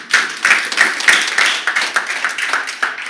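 A small audience at a talk gives a round of applause, with a few hands clapping in a quick, uneven patter close by.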